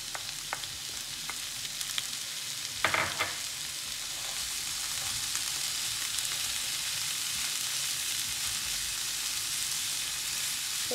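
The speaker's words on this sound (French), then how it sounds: "Et je vais mélanger le tout pour que la viande cuise de manière bien homogène" Ground beef seasoned with paprika, cumin and salt fries in a pan for beef samosa filling, a loud continuous sizzle with a brief stirring scrape early on.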